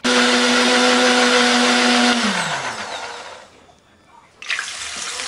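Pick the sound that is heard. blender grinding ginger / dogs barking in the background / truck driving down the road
blender grinding ginger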